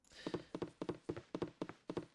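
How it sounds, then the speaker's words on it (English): Footsteps of a stout dwarf character walking in the video game Baldur's Gate: Enhanced Edition, a steady run of about eight evenly paced, crisp thudding steps, close and clear with no talk. "I do like the little footstep sounds."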